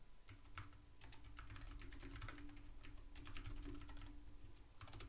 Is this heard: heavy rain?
no